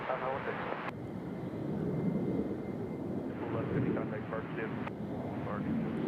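A JetBlue airliner departing Nashville International Airport for Boston gives a broad, steady jet roar at a distance, with people talking over it throughout.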